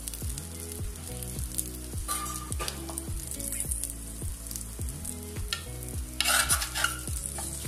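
Masala sautéing in hot oil for chicken dum biryani gives a steady, close sizzle with recurring stirring scrapes, set over a tonal, music-like backdrop that runs throughout.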